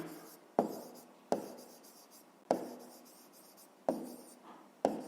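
Pen strokes on paper while a math answer is written down, five sharp taps each trailing into a soft scratch, close and quiet with brief pauses between.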